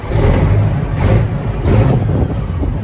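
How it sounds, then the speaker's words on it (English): A 1994 Peterbilt 379 truck with a Cat engine starts from cold, cranking and catching into a loud, rough diesel rumble with repeated surges, close by. "So go ahead and give you a quick start on this truck"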